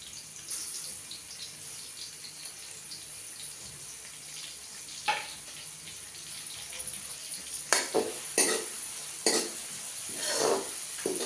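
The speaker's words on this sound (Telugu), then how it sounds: "ఈ ఉల్లిగడ్డలు ఇలా బాగా కలుపుతూ" Onions and green chilli fry in hot oil while being stirred, producing a steady soft sizzle with several sharper scraping stir strokes near the end, close by and without talk.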